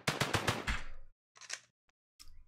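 An AK rifle fires in an Unreal Engine 4 first-person shooter test: a rapid burst of about five close, loud shots, then a couple of isolated clicks or short reload-like bursts after a silent pause.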